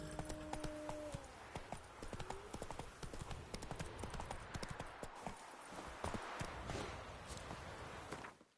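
Horse hooves clip-clopping at a steady walking-to-trotting rhythm in The Witcher III: Wild Hunt, a continuous run of close, crisp hoofbeats over a busy game soundscape, with a brief whinny-like tone near the start.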